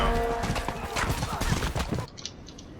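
A horse gallops in the medieval combat game Mordhau, its hooves drumming a quick clip-clop for about two seconds before cutting off, with a player's voice running over it.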